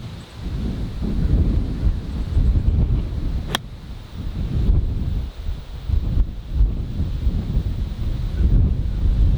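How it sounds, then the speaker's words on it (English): Gusty wind on a golf course buffets the microphone in heavy, rumbling waves that rise and fall for the whole stretch, with a brief sharp tick partway through and no voices. "that wind just picked up out of nowhere"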